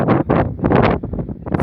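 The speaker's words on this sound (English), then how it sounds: "it's a strong wind up here, and very cold wind" Strong, cold wind on a mountain top at Borski stolovi near Bor roars in heavy, close gusts that buffet the microphone, rising and dropping in uneven bursts.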